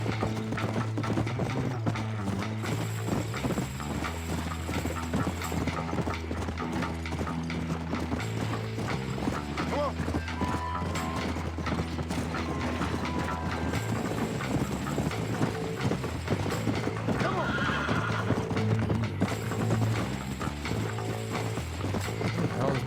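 A horse gallops in the video game Red Dead Redemption, its rhythmic clip-clop of hooves running steadily for the whole stretch over a droning musical and mechanical backdrop, with no clear voices.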